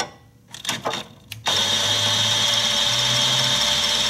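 Pneumatic impact gun running on a sway bar link bolt of a 2013–2019 Hyundai front suspension, a few brief clicks and bursts, then a loud, steady, continuous whirr from about 1.5 seconds onward, close up.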